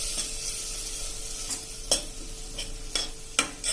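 Cluster beans cooked with oil and spices in a pan over a low gas flame, stirred with a soft steady sizzle and a few sharp scraping clicks of the spoon, close and alone.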